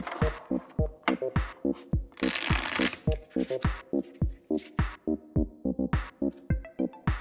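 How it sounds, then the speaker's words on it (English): A deck of board game cards shuffled on a table in a steady run of crisp riffling bursts, each a short papery flutter, close and clear with no talk over it, plus a denser burst near the middle. "they separate the core parts from the deck and shuffle the deck."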